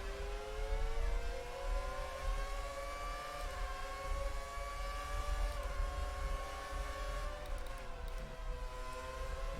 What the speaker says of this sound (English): These cars are loud, by the way. I feel like I have to really shout over them.